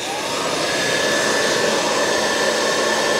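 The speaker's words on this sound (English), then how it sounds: "Got the light powered, blow dryer powered, pulling 620 watts." A blow dryer runs on power drawn from a Mokwheel Scoria e-bike battery, giving a loud, steady whooshing roar with a constant whine that holds the whole time.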